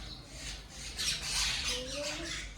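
House sparrows coming to feed give faint, scattered chirps and squawks at a distance against a quiet background.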